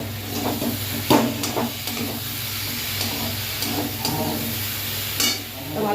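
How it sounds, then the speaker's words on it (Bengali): Cumin powder, turmeric powder, tomato and green chilli paste fry in a pan for a katla fish curry, making a loud, dense, steady hiss with a few scattered stirring clicks. "দিচ্ছি জিরের গুঁড়ো, দিচ্ছি হলুদ গুঁড়ো, আর দিচ্ছি টমেটো আর কাঁচা লঙ্কা বাটা"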